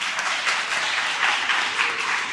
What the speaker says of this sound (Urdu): ان کے لیے بہت ساری تالیاں